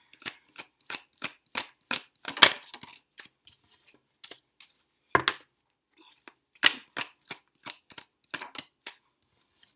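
Tarot cards shuffled by hand in repeated crisp riffling bursts, each short flurry separated by brief pauses, with a couple of louder, fuller shuffles partway through.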